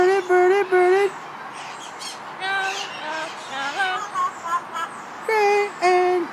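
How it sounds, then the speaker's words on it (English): Pet bird in a home in Santa Barbara sings and squawks in repeated bright, whistled phrases with short pauses, loud and close, while a person talks nearby. "Pretty bird, he likes to sing."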